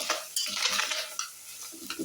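A spoon scrapes and stirs tofu sabzi with onion and capsicum in a hot pan, a busy close-up clatter over a light sizzle, with no voices.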